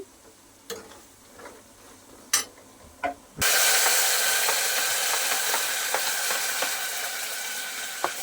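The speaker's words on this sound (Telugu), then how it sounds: "కొంచెం ఒక మంటలో వేగిపోద్దండి, ఎందుకంటే నూనె బాగా వేడిగా ఉంది కదా" Chicken pieces drop into very hot oil in a home kitchen, bursting into a loud, steady sizzle that continues to the end, preceded by a few faint clinks and taps.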